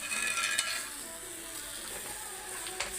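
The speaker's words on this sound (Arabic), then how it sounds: "ننزل بقى ايه واحده واحده كده ونقلب باللبن" Fried flour is stirred with milk into a béchamel sauce in a pot, a soft continuous sizzle with light scraping and occasional utensil clinks, fairly quiet and close.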